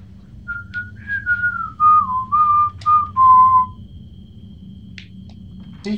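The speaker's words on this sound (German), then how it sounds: "Ich pfeife random music" A person whistles a random, wandering tune in a series of clear sustained notes and short glides, close and fairly loud over a low steady hum, during a horror video game session.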